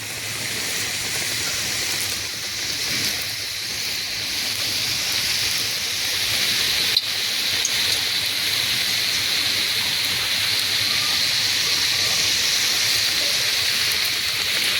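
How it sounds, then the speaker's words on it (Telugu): Kajjikayalu, stuffed pastries, deep frying in hot oil on a medium flame, giving a steady, dense bubbling hiss that runs the full length without a break and swells slightly partway through, with no talking. "ఇప్పుడు ఆయిల్ వేడెక్కిందండి. ఇలా నేను తీసి పెట్టుకున్నాను. ఇప్పుడు మనం ఫ్రై చేసుకుందాం. ఒక్కొక్కటిగా వేసుకుందాం."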